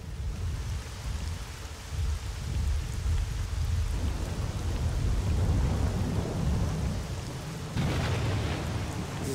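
A thunderstorm in the video game STALKER, with steady rain and deep rolling thunder that swells midway, plus a sharper crack near the end, heard alone without talk.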